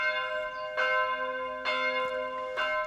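Church bells of St. Jacob's Church in Herxheim am Berg, Germany, ring the midday call, a few resonant strikes spaced roughly a second apart, each leaving a long humming tone, with no talking.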